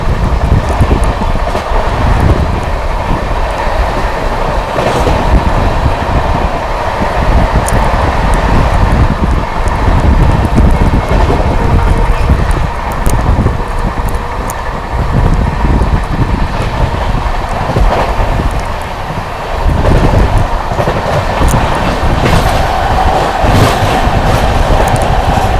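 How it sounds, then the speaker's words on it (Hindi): The Vikramshila Express rolls along Indian rails near Makhanpur, its wagons giving a loud, continuous rumble with wind and scattered clicks of wheels on rail joints as it slows, heard alone from on board. "दोस्तों ट्रेन जो है अपनी मक्खनपुर पहुंच रही है और धीमे हो चुकी है काफ़ी ज़्यादा"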